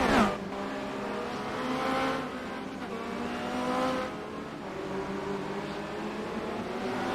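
Formula Renault 2.0 race cars lapping Monza in a racing video game, a steady engine whine that rises and falls as the cars pass, moderately loud without speech.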